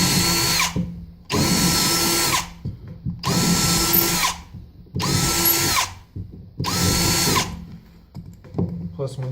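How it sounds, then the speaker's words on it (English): A power drill bores into acrylic while a turkey pot call is made in a workshop, running in five loud, even bursts of high whine separated by short pauses, with small clicks and handling noises between them. "Still drilling acrylic, so you don't want to jump up too many"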